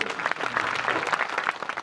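Audience at a Marathi kirtan in Maharashtra applauding, a dense burst of continuous clapping from many hands close by, steady and loud throughout.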